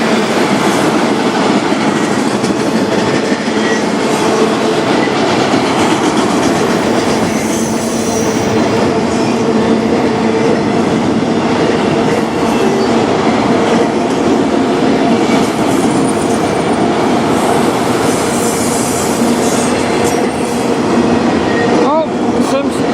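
A CN freight train rolls past in Sarnia, Ontario, with a loud, continuous rumble of wheels on rail, steady clickety-clack and occasional metallic squeals, heard up close throughout.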